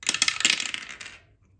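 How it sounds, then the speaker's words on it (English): Tiny dice rattle and tumble across a surface in a quick burst of clicks, close and crisp, then stop and leave near silence. "Should we use our itty bitty dice?"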